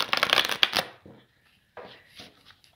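Tarot cards are shuffled in a quick riffling burst, then a pause, then a second, shorter flurry of card handling, close and clear with no talk.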